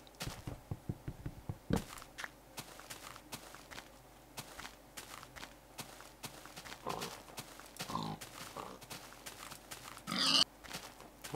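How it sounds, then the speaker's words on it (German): Pigs on a farm in Minecraft, scattered short grunts and oinks mixed with many footstep clicks and thuds, fairly close and moderate in level. "Voll die Schweinefarm."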